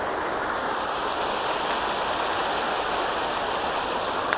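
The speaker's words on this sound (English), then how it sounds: "you look at the flow of the water, you think that it might be maybe another day or so before this channel of the Calapooya River will go down" Flooded Calapooya River channel rushing over a closed road, a constant loud broadband roar of fast-moving water without pause or voices.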